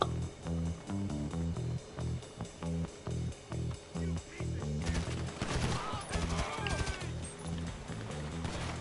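Rapid bursts of automatic assault rifle fire in the game GTA 5 Online, rhythmic volleys followed by a denser, chaotic stretch of shots and clatter, loud and close.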